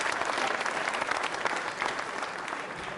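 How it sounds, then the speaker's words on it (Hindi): A large audience claps steadily and loudly at a quiz event for trainee state-service officers, welcoming Dr. Satyendra Baswal; the dense applause holds even for three seconds with no voices over it. "जोरदार तालियां बजनी चाहिए"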